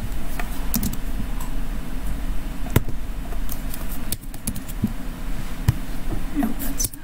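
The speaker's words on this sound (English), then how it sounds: "Julius, your keyboard's weird" Steady, close typing on a computer keyboard in a workshop room, with rapid clicky keystrokes and a few sharper taps over a constant background hum, and almost no talk.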